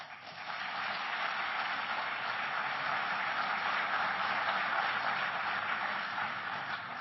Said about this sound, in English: let's give him a round of applause for participating in this session